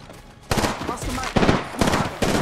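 Loud, close automatic gunfire rattles in Apex Legends gameplay, several rapid bursts following a quiet start, with faint voice sounds in between.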